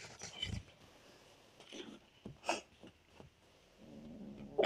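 Several cats scuffle and vocalise at close range in a domestic setting, with brief yowls, hisses and growl-like bursts separated by quieter gaps, and someone shouts at them toward the end.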